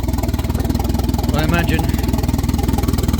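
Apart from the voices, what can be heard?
1992 Volvo 460 turbo engine idling roughly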